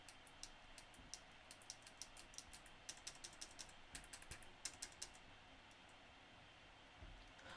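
Rapid clicking from an overly loud computer keyboard picked up by a streamer's microphone during Minecraft play, crisp key taps in quick clusters that thin out toward the end, under a faint hiss with no voices.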